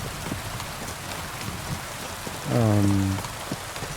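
Steady rain falls outdoors near castle ruins in a medieval-setting video game, a constant hiss of drops with a low tonal groan rising briefly in the middle, and no speech.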